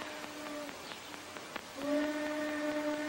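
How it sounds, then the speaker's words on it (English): A thin, high steam train whistle sounds in a couple of short blasts, then a longer sustained tone, moderately loud over a faint background hiss. "Train whistle."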